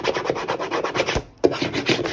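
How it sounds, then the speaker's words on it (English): A scraper rubs vinyl letters onto a toolbox in firm, rasping back-and-forth strokes, close and loud, with one brief break before the burnishing continues. "So I am going to burnish"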